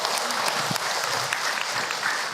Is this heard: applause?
yes